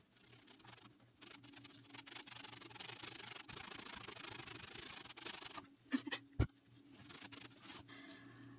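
Fire-charred wood scrubbed with baking soda, a quiet, continuous gritty rubbing that rasps steadily for several seconds, then a few sharper scuffs and knocks before trailing off, close up with no talking.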